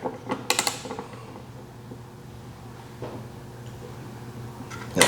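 Ratcheting clicks and mechanical creaks from a torque wrench tightening the tank bag mount bolts on a Triumph Street Triple R, a quick cluster of clicks near the start, then quieter ticks and another burst at the end, close by.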